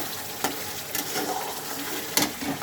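Soybean chunks and potatoes frying in oil seasoned with asafoetida, a steady close sizzle with a few sharp stirring scrapes.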